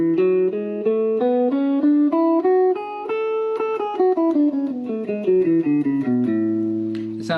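Guitar playing a major scale note by note, climbing steadily then descending, each clean plucked note distinct and evenly paced, ending on a sustained low note.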